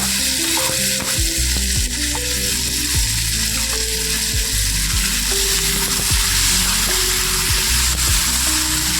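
Chopped tomato sizzling as it is stirred into frying onions in a pan, a steady loud hiss with repeated scraping and clinking of a spoon against the pan, no talking.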